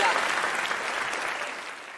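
Audience applause fills a hall as a health talk welcomes a doctor, a steady dense clatter of many hands that holds strong for two seconds before easing slightly at the end.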